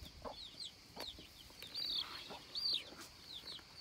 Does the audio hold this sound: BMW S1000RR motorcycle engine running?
no